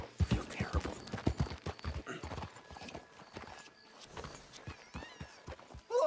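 Horse hooves clip-clop in a steady walking rhythm in Red Dead Redemption 2, close and clear, with short bursts of other game sounds around them.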